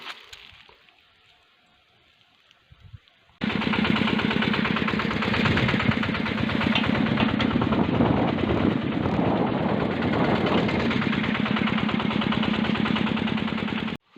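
After a few quiet seconds a vehicle carrying a load of pumpkins home starts up and runs, a steady, loud, throbbing engine drone that holds evenly until it cuts off at the end.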